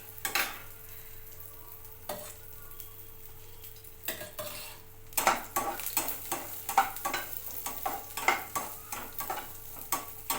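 Raisins frying in ghee in a pan sizzle steadily, with a few quiet utensil scrapes early on and then a quick run of spoon stirring and clinks against the pan, close and moderately loud, with no talking.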